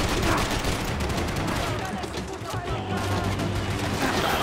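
Gunfire in the video game Max Payne 3, rapid shots crackling almost continuously and densely layered with game sound and music.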